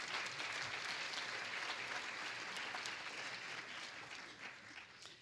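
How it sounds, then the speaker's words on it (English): A hall full of people applauds at a 2011 Phi Beta Kappa ceremony, a dense, steady wash of clapping that holds for several seconds before slowly thinning. "And we offer our applause."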